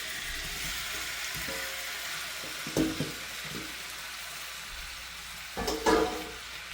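Butter and seared chicken sizzle steadily in a clean pot for stew, a continuous hiss with a few louder bursts of crackle partway through.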